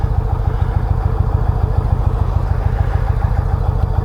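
A 2019 Indian Chieftain Limited motorcycle idles close by, its stock exhaust giving a steady, quiet, low-pitched rhythmic thump with a faint mechanical clatter, alone and unbroken.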